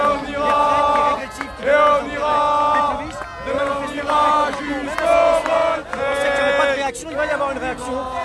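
Protesters of the yellow vest movement chant slogans in rhythmic unison at a street demonstration in Paris, a loud, close crowd with repeated phrases broken by short pauses.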